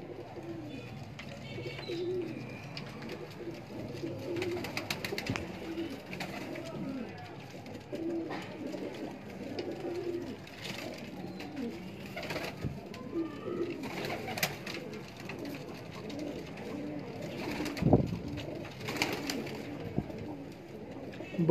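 Pigeons coo softly and steadily in a breeder loft in Lahore's Delhi Gate area, a low murmuring flock sound running throughout, with someone talking over it now and then.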